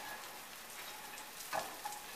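Chicken gizzards fry in a small amount of olive oil, giving a steady soft sizzle with a couple of brief louder pops near the end, no talk.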